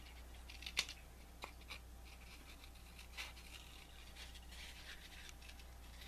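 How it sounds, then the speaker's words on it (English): Scissors snip around sparkly card pieces in a few faint, close clicks and scratchy cuts, irregular and sparse over a low steady hum. "Easier for me to get around if I cut off those extra pieces."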